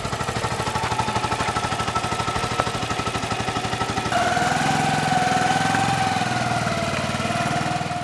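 A motorbike engine chugs rhythmically at a steady, fairly loud pace, then shifts into a smoother, higher drone with a rising whine about halfway through.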